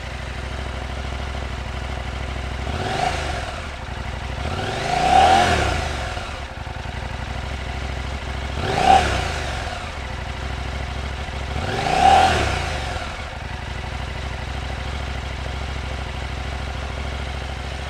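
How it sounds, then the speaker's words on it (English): A 2023 Husqvarna Norden 901 Expedition motorcycle with stock exhaust idles with a steady low throb, rising three times into short revs that climb and fall back, with no voices. "let's get an audio check on this stock exhaust"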